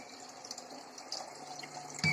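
Quiet running water with faint splashing and dripping as boiled sweet potato is rinsed, ending with a slightly louder splash.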